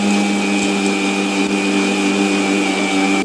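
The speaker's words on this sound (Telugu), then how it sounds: "వంకాయ ముక్కలు వేగనిచ్చిన తర్వాత మసాలా అంతా మిక్సీ చేసుకుందాం." A mixie grinds masala for a brinjal curry, a loud close whining motor hum holding a steady pitch throughout with no voices.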